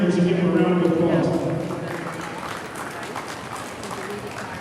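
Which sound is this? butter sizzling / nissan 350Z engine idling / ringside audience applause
ringside audience applause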